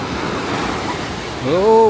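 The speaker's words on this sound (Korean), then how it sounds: "이거 근데 파도가 이렇게 오는데 발만 적실 수 있는 거야?" Ocean waves wash onto a beach in Lima, Peru, a broad steady rush of surf with wind noise, and a voice briefly speaks near the end.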